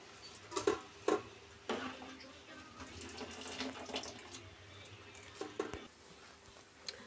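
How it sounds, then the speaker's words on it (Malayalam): Cooked rice drained of its water into another vessel in a kitchen, a steady splashing pour with a few sharper clatters of the pot near the start, continuous and fairly close. "നമുക്കത് വേറൊരു പാത്രത്തിലേക്ക് ഊറ്റി മാറ്റാം."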